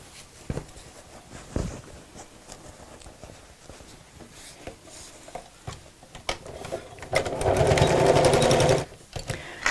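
A sewing machine stitches across the top and sides of a fabric craft bag, with soft handling noises first and then a steady run of fast mechanical stitching that stops abruptly near the end.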